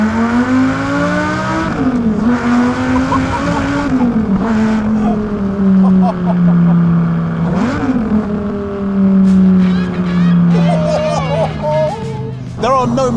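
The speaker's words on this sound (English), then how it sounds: "This is my first time ever driving a Lamborghini on the road." A Lamborghini Gallardo with a naturally aspirated V10 drives on a public road, its engine loud and close inside the cabin, rising and falling through throttle changes and shifts with a sustained rough drone.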